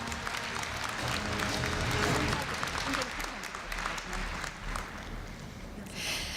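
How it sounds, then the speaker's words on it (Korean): Audience applause at a university entrance ceremony for new students, a broad sustained clapping that swells and then thins out, with some crowd murmur mixed in. "네, 큰 박수 부탁드립니다."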